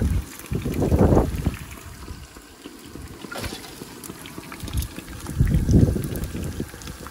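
Strong wind at Steep Point, Australia's westernmost point, buffets the microphone in heavy rumbling gusts that swell and ease, with a calmer stretch in the middle.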